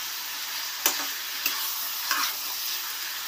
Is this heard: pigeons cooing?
no